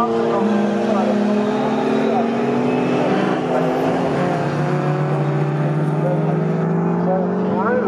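Classic racing cars, including an Austin with a 1275 cc engine, lap the Snetterton circuit during a CSCC race with a continuous loud engine roar and shifting pitch, overlaid by a commentator's voice.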